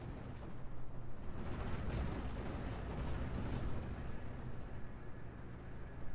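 Distant 88 mm gunfire and explosions from a Normandy 1944 battle in Steel Division: Normandy 44 rumble as a dense, continuous barrage of low booms and thuds, fairly faint, with no one talking.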